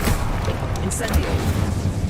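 An Incendio fire spell is cast in Hogwarts Legacy, producing a loud whooshing, crackling burst with scattered bright pops over rumbling game effects, lasting about two seconds.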